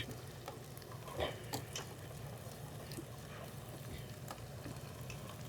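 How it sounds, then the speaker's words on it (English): Cubed butter melts in a pan with a faint, steady sizzle, and a spoon scrapes and taps now and then as it is gently stirred, with no talking. "We're going to drop that in there, let that just kind of melt. And so, you stir that gently."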